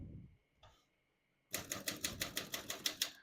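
A 1937 Corona Standard portable typewriter typing: a steady run of about ten crisp, evenly spaced key strikes close up, following a brief mechanical click and a short pause.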